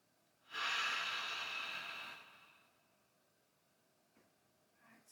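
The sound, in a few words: big inhale through the nose, releasing exhale through the mouth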